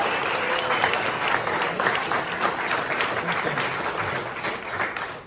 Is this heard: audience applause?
yes